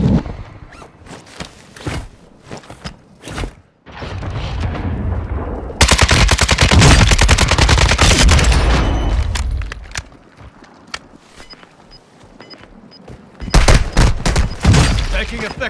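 Warzone 2 match with bursts of automatic gunfire and shots, some heavy sustained volleys and later loud bursts, close and loud, with brief voice talk between.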